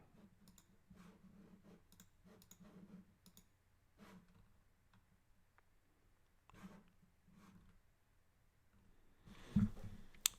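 Computer mouse clicking, faint and close, in short irregular clusters of light clicks, with a louder thump near the end.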